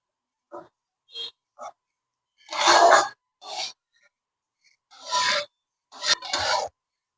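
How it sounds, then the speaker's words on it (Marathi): Coarse cashew powder roasting in ghee in a pan, with short scraping, rasping strokes coming in separate bursts, close by and moderately loud, with pauses between them. "त्याच्यात आपण ही काजू पावडर केलेली आहे थोडी जाडसर, ते आपण तुपामध्ये भाजून घेऊ"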